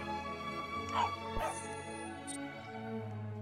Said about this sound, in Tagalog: aso tumatahol